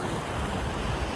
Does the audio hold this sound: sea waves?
yes